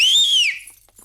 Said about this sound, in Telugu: ఈ విజిల్ ఎవరికి?